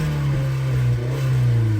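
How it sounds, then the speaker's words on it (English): Mazda Miata idling with a new aftermarket exhaust, a steady low droning burble that holds even and continuous at close range with no talk. "I absolutely love the tone of this exhaust"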